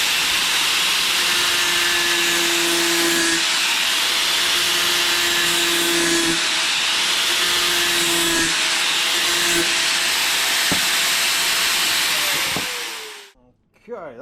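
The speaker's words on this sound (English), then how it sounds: "I'm going to grind that first and then we'll tack it up" Continuous grinding on metal at a motorcycle headlight for a BMW adventure bike project, a steady loud whine with recurring tonal bursts, trailing off abruptly near the end; a voice speaks briefly over it.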